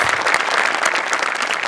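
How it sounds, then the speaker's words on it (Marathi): Audience applause at a Marathi comedy show, a dense steady wash of clapping from a studio crowd that carries on at even loudness throughout, with no voices above it. "त्यांच्यासाठी एक जोरदार टाळ्या"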